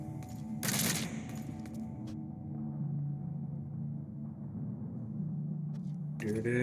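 Gunfire in the video game Metal Gear Solid comes as a sharp loud burst early on and another at the very end, with rumbling game ambience and voices running underneath.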